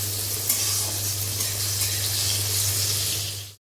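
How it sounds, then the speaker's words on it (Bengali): Bay leaf, a dried chili and five-spice sizzling in hot mustard oil, a steady close crackling hiss over a low hum that runs without pause, then cuts off abruptly near the end. "এবারে ওই সর্ষের তেলের ভেতর দিয়ে দিচ্ছি তেজপাতা, একটা শুকনো লঙ্কা, আর সাথে দিয়ে দেব কিছুটা পাঁচফোড়ন"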